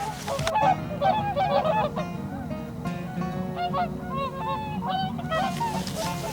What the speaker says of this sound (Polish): To są bardzo ciekawskie stwory mam na myśli łabędzie krzykliwe.